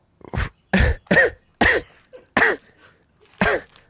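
A person coughs six times in separate harsh, loud bursts with short pauses between, close to the microphone and with no talking.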